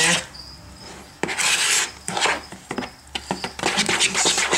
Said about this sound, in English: And I scrape the sides to make sure we get all that good stuff in